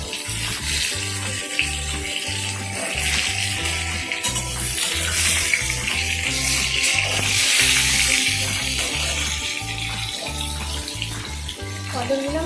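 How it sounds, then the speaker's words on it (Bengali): Pointed gourds (potol) dusted with turmeric fry in a covered pan over a medium flame, giving a steady, dense hiss that runs through the whole stretch beneath a rhythmic, thumping background beat. "পটলগুলো আমি মিডিয়াম ফ্লেম করে ঢাকা দিয়ে ভেজে নিচ্ছি"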